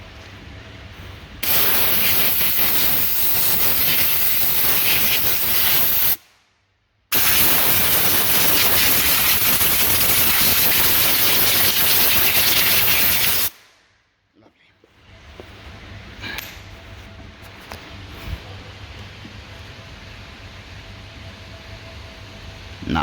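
Compressed air and brake cleaner spray blasting into the engine oil opening of a 2012 Mercedes E63 under rebuild at 198k km: two loud, sustained hissing bursts, one of about five seconds and one of about six, separated by a brief pause, then quiet workshop sound.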